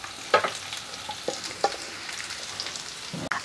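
Soybeans and potatoes frying over a high flame give a steady, fairly quiet sizzle with a few sharp crackles and pops scattered through it.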